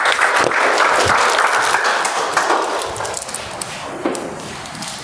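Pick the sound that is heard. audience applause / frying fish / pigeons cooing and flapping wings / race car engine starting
audience applause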